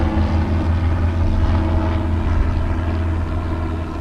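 A small Robinson R22 helicopter passes overhead as a steady, loud engine and rotor drone, continuous and fairly even, with no talking.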